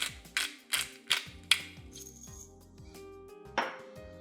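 A pepper mill cracks black pepper over a creamy egg-yolk salmon carbonara, giving four quick ratcheting grinding bursts close up, a pause, then one more crunchy twist near the end.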